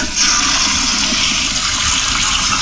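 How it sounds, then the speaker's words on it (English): A newly installed home power-flush toilet gives a loud, forceful rushing gush of water, close and continuous, with no talking. "actual toilet sound effects from the power flusher recently installed in his home"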